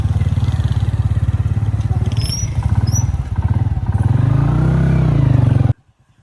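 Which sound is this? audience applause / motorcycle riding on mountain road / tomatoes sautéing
motorcycle riding on mountain road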